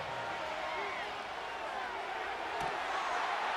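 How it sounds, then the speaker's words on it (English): Stadium crowd in Madden NFL 25 roaring steadily as a dense, distant wash of noise throughout, with commentators talking over it. "This crowd urging the defense on."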